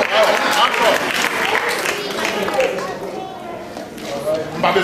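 An audience at a church Christmas party claps steadily, with a broad patter of applause under loud talking from a speaker.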